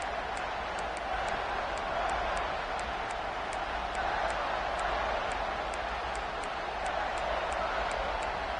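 A loud, steady roar from football fans filling a stadium, a dense unbroken wall of crowd noise that holds at the same level throughout, with faint regular ticking above it.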